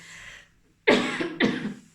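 Two sharp, close coughs from a person with an itchy throat, coming in quick succession after a brief quiet breath, each a harsh burst that trails off.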